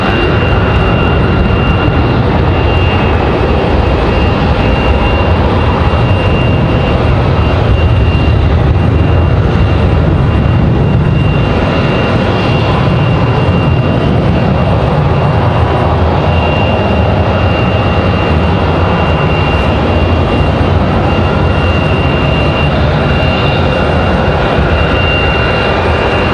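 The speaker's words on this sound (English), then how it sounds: "Got a couple American 737s ready for departure, one of which already hit the tarmac." An American Airlines Boeing 737 jet departing at Raleigh-Durham produces a steady, loud, broadband engine roar throughout, with a faint whine holding above the rumble and no voices.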